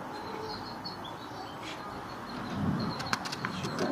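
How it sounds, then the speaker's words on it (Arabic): Pigeons or doves coo softly in a museum courtyard in Berkane, Morocco, with faint chirps and a few brief wing flaps near the end over low background noise. "شوفوا الطيور ما شاء الله"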